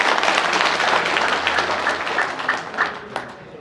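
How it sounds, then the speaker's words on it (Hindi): A crowd claps loudly on request at a public gathering, a dense burst of applause that gradually thins out and fades to scattered claps by the end. "जोर से ताली मारो।"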